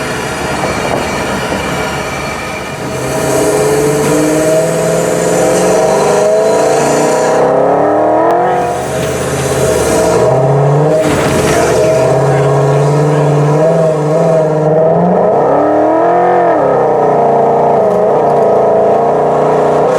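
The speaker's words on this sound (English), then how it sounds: "the new intake coming inside the cab sounds sick" Modified truck with a new intake routed inside the cab, driven laps through sand dunes; a loud, close engine drone rises and falls with throttle, with intake whine and shifting pitch, continuous throughout.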